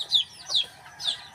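Three short, bright clucks from a backyard native chicken, evenly spaced and fairly close, with no talking.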